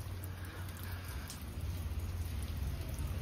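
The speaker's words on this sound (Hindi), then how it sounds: "और फिर बारिश आ रहा है" Steady rain patters down at low volume, a soft continuous hiss with a faint high electronic whine above it.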